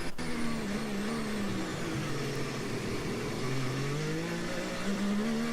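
Formula 1 car at the 2022 Singapore Grand Prix qualifying in the rain, its engine note sitting very low and wavering near stalling, a loud continuous droning hum with slowly drifting pitch and no talk.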